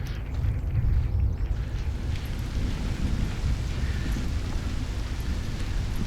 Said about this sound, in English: Just a non-stop rumble of thunder